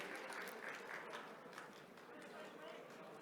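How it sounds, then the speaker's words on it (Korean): Faint, steady applause from an audience at a youth startup competition awards ceremony, a dense patter of clapping that carries on evenly throughout. "큰 박수 보내주시기 바랍니다"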